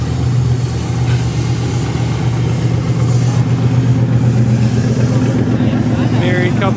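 A derby car at the Keystone Nationals 2020 pulling off the track, a steady mid-pitched engine drone rumbling continuously near the listener, with an announcer talking over it.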